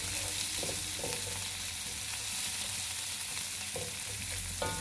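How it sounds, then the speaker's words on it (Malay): Long beans sautéing in a hot pan for nasi goreng, a steady close sizzle with brief scraping stirs of the spatula, no talking. "Kemudian saya akan masukkan pula kacang panjang. Tumis sebentar."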